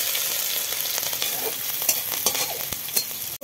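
Chopped green chillies frying in hot mustard oil in a kadai, with a dense, continuous close sizzle and a few stirring scrapes, no voices.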